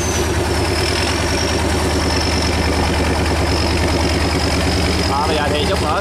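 A fishing boat's engine runs at sea, a steady, loud, close drone that holds unbroken from start to finish.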